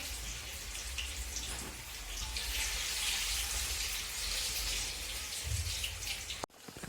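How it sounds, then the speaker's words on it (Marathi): Colocasia leaf rolls (alu vadi) fry in hot oil with a steady, soft sizzling hiss that runs unbroken for several seconds, then stops abruptly. "सगळ्या आळूच्या पाण्याच्या वड्या आपल्याला असेच तळून घ्यायचे आहे"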